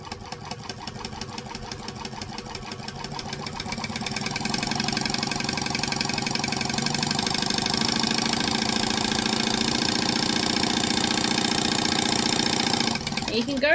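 A sewing machine stitches and backstitches through fabric with a fast, steady mechanical chatter up close, speeding up and growing louder after a few seconds, then stopping abruptly at the end.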